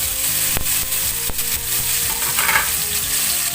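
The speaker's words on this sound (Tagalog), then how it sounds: "Nagigisa na ako ng bawang. Sasabay na natin ang sibuyas at kamatis." Garlic, onion and tomato sizzle and fry in a pan while being stirred, a loud continuous crackle with a few sharp utensil knocks against the pan and no talking.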